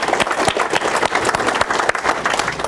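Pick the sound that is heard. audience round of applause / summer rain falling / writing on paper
audience round of applause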